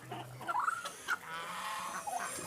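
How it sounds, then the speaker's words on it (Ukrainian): Piglets squeal in short high-pitched bursts, several cries scattered over a quiet farmyard background. "Свинки вже піщать."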